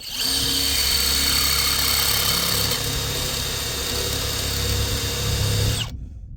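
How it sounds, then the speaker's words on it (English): A power drill grinds steadily and loudly into hard metal on a 1962 Ford Thunderbird transmission swap, a continuous high whine with a rough buzzing body, then cuts off abruptly as the bit's tip melts off. "Took the end of the drill bit right off, melted it in there."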